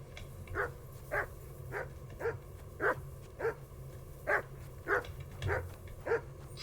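A dog named Mutt in the video game Kingdom Come Deliverance II barks in a regular series of about a dozen sharp, evenly spaced barks at moderate distance over a low background hum.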